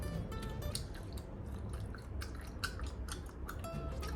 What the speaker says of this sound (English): I'm trying so you can hear the chew.